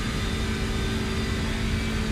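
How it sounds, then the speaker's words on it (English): An iRacing front-wheel-drive racing car engine at the Nürburgring drones steadily at a constant pitch, a sustained mid-range hum with no break for the whole couple of seconds. "Just listening to the engine."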